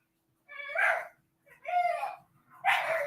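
Several dogs bark and yip in short bursts, three distinct barking episodes close by with quiet gaps between, heard while a breeder talks about American Bully puppies.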